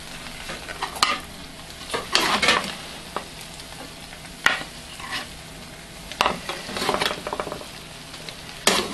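Steamed biryani is dished out with a metal spoon scraping and clinking against the pot in irregular bursts, a mix of soft rustling and sharp taps.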